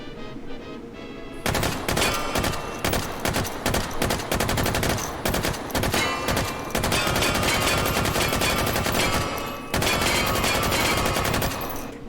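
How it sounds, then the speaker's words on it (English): An M249 SAW machine gun firing long sustained bursts, loud and close, rapid rounds blurring into a dense roar with only a brief break before firing resumes. "M249 saw."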